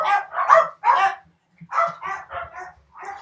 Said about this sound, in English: Sorry about that, dog's barking.